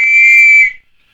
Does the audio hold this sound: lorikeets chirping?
no